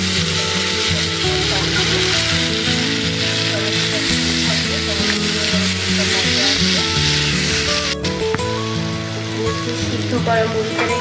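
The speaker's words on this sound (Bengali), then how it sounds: "ভালো করে একটু নাড়তে থাকবো" Spice powder being stirred in a hot pan for an egg and puffed rice dish, a loud steady sizzle with repeated scraping and clattering of a spatula against the metal, one sharp knock partway through.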